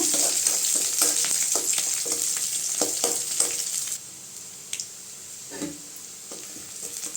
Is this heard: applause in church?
no